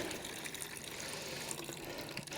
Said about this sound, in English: And there's loads of water coming out of this end.